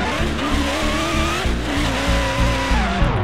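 A car driving and skidding in a Roblox hood game, with a steady engine drone and tires squealing continuously, loud and up close with no voices over it.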